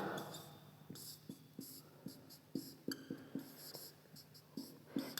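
A pen writes the word printf during a C programming lecture on pointers, producing a quiet series of short, distinct strokes and taps in an uneven rhythm.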